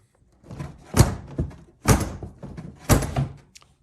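Seat of a 2006 Polaris Sportsman 500 ATV pressed down onto the fender, three separate hollow plastic thunks and clunks about a second apart, close and fairly loud without talk.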